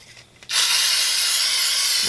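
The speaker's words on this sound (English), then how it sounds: "spray it off with the brake cleaner again" After a brief quiet moment, a can of brake cleaner bursts into a loud, continuous hiss as it rinses a brake caliper being prepped for caliper paint.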